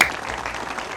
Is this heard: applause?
yes